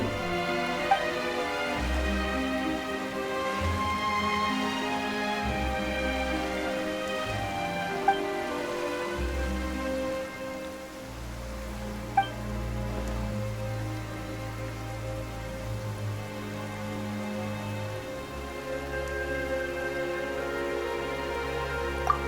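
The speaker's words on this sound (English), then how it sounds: "Why is it raining all of a sudden?" Rain falling in the video game Genshin Impact, a steady soft patter on surfaces under a sustained musical score, even and moderately loud throughout with no talk.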